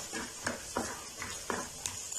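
Fresh peas roast with softened onion in a pan over medium heat, giving a soft sizzle under four or five rhythmic scraping stirs of a spatula against the metal.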